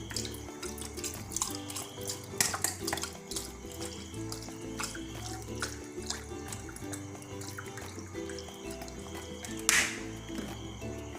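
Vinegar poured from a glass into a homemade tobacco-leaf ferment mixture used as a pest repellent, heard as a steady trickling, splashing liquid sound close by, with a brief louder splash near the end and no talk.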